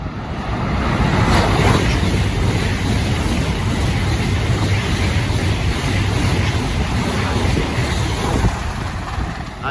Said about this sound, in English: The next train to pass by will be a Eurostar 374.